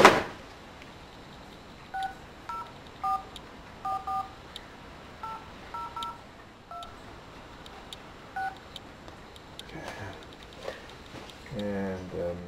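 An old high-powered cell phone dials out, sounding a series of short keypad tones in irregular bursts over a steady hiss, followed by a rising run of tones near the end.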